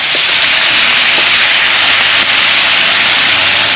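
White bass pieces fry in hot oil until golden, a loud dense steady hiss of bubbling fat heard up close, with a few faint clicks and no voices.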